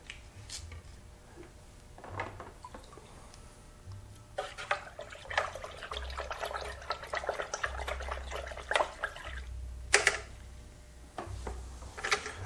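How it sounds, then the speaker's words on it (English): Water pours and splashes into a container while iodophor sanitizer solution is mixed, a soft, uneven liquid trickle with occasional clinks, close and fairly quiet. "So I'm just going to mix up a little bit of iodophor solution here."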